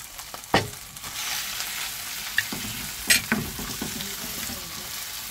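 Onion stir-frying in a pan, a continuous close sizzle with several clattering scrapes of utensil against the pan, with no voices.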